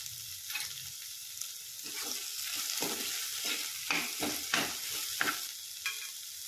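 A spatula stirs mashed eggplant bharit in a hot pan, scraping and clattering against the metal in uneven strokes over a constant close sizzle.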